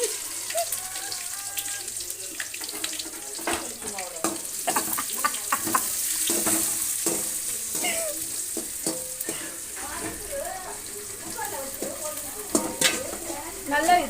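Two large chopped onions fry in a pan while being stirred toward browning, giving a continuous loud sizzle with frequent clicks and scrapes from the spoon throughout.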